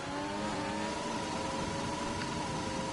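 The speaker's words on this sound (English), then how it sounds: "God, he's really revving it out," A race car engine revs hard out of a hairpin at Abu Dhabi in a racing video game, a steady high-pitched whine held loud and unbroken for three seconds with no talking.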